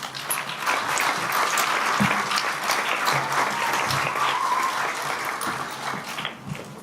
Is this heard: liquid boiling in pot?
no